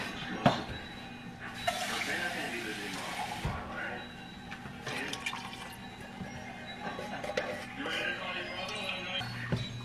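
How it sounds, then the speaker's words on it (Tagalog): A little water poured into coconut milk during cooking, a splashing, trickling pour that starts abruptly and runs in bursts with drips and clatter, fairly close, with quiet talk in between. "Lagyan ko siya ng konting tubig."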